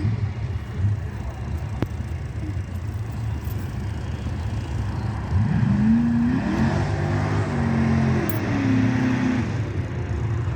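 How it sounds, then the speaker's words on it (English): Pontiac Trans Am drag car running nitrous, heard at a distance doing a burnout: a steady engine drone that swells and climbs in pitch midway, fairly faint over open outdoor ambience. "Sounded like it did a good burnout"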